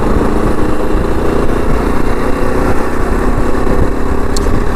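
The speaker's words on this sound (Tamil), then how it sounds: "முறுக்குனிங்கன்னா வண்டி சர்ன்னு எங்கேயோ போயிடுங்க." A 2025 Yezdi Adventure motorcycle engine runs loud and close, a steady rough rumble with continuous mechanical chatter throughout, no voices.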